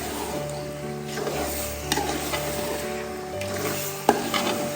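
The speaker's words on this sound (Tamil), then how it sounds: "இப்போ நல்லா எண்ணெய் பெரிய மசாலா நல்லா வதங்கிடுச்சு, பார்த்தாலே உங்களுக்கு நல்லா தெரியும். இப்போ நம்ம சிக்கன் ஆட் பண்ணிடலாம்." Chicken pieces added to oily, well-fried masala for seeraga samba chicken biryani sizzle steadily in the pan while a spoon stirs and scrapes, with occasional sharper clinks up close.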